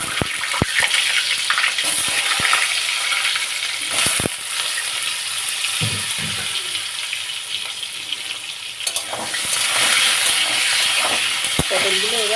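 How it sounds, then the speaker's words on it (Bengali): Pointed gourd frying in oil with salt and turmeric gives a loud, steady hiss and crackle, broken by sharp utensil knocks and bursts of sizzle; a voice briefly surfaces under the frying. "একটু পটল ভাজা হয়ে গেছে"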